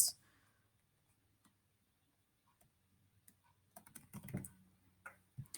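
Fingers tap on a computer keyboard, sparse scattered keystrokes at first and then a quicker cluster of clicks, quiet and close with no voices.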